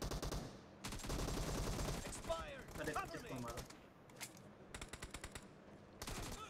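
M416 assault rifle fire in PUBG (Battlegrounds Mobile India): loud rapid automatic bursts separated by short gaps, with a voice briefly audible mid-clip between volleys.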